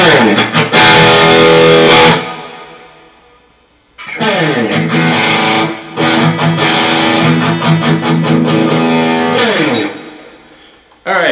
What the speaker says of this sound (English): Put on some distortion and we can check out the rest.